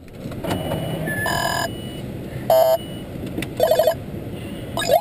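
A car radar detector inside a moving Subaru WRX gives several bursts of sharp electronic beeps and chirps over the steady road and engine rumble, loud and close.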